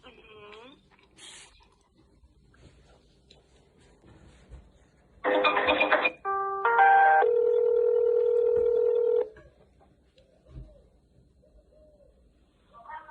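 A call to the Lviv city police: telephone dialing tones sound briefly, then a steady ringback tone holds for a few seconds amid quiet line noise, with faint bird cooing nearby.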